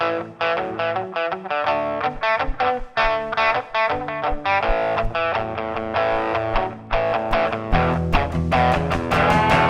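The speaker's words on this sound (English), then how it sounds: "hope you enjoy this little rock and roll tune." A band opens a little rock and roll tune at a livestream show, with dense, steady, distorted guitars, bass and drums playing loud and continuous, without any voices.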